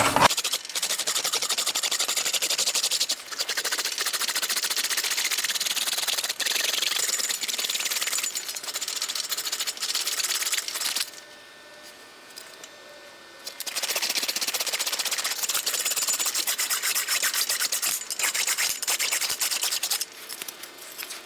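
A steel motorcycle fender rolls back and forth through a mini English wheel, making a continuous close metallic scraping and rumbling. It runs loud and steady, drops briefly to near quiet for about two seconds midway, then carries on.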